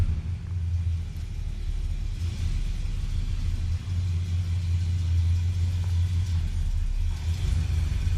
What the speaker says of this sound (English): Here comes the first truck.